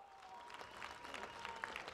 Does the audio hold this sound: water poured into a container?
no